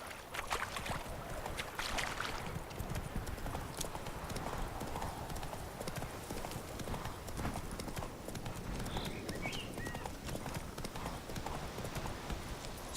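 Horse in The Witcher 3 trots along with rapid, even hoof clip-clops throughout, over soft ambient game sound and faint background noise.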